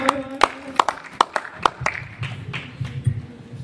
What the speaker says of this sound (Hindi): जोरदार तालियां हो जाए। Please clap everyone